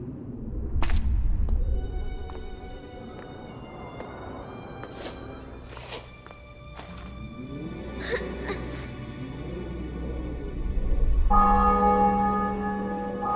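Church bells toll in a medieval fantasy city newly taken in battle in The Witcher 2: Assassins of Kings. Several separate strikes ring out with long decays over a low rumble, and a voice speaks briefly near the end.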